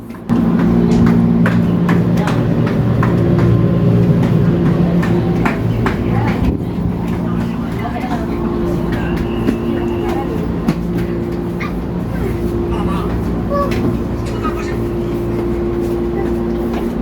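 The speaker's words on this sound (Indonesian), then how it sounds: "Kayaknya KRL-nya mau jalan lagi nih." A KRL commuter train pulls away from Nambo station, a small class 3 stop, with a steady low rumble and hum that stays loud and continuous throughout, heard from close by with voices in the background.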